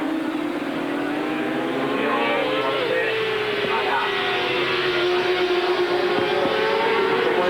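Superbike racing engines screaming at full throttle at Sugo during a 1999 World Superbike race, climbing through the gears toward 6th on the back straight, a loud sustained high-pitched whine with rising pitch sweeps and overlapping bikes passing.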